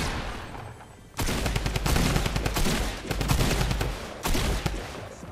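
Rapid automatic gunfire from the Snoop Dogg gun in Fortnite, dense bursts of crackling shots after a quiet opening second, with a brief gap before firing resumes loud and close.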